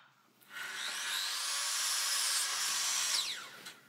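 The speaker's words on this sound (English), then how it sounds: "I like to use my miter saw." A miter saw set to 20 degrees cuts through a piece of timber for an A-frame shelf, one loud sustained whining cut of about three seconds that spins up, holds steady and winds down, close and alone.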